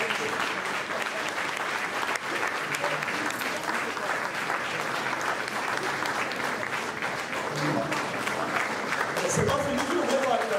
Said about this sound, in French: nous allons faire 1 minute d'acclamation pour tout le travail que notre maman a battu sur cette terre